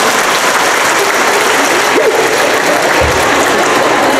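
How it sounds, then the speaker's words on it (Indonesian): Loud, dense audience applause in a university hall in Pekalongan, continuous clapping filling the whole stretch with a brief murmur of voices beneath it. "Tepuk tangan dulu."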